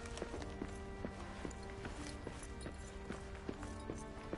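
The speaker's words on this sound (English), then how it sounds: "You just keep hearing that footsteps. That is just a bug." Glitched footsteps repeat endlessly in the Lord of the Rings: Return to Moria video game, a steady regular clopping tread of hard steps that keeps going without pause through the whole stretch.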